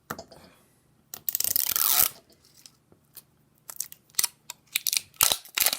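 A Pokémon Pokéball tin holding three booster packs is opened, with close crinkly tearing and rustling of packaging in bursts, then scattered clicks and crunches of handling.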